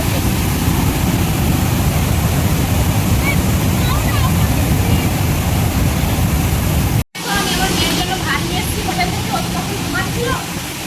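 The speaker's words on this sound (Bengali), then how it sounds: "আমরা পৌঁছে গেছি ওয়াটারফলস দেখতে।" Rushing water at a waterfall in Odisha, a dense, steady roar filling the scene close by with wind buffeting the microphone, briefly cut off before resuming just as loud.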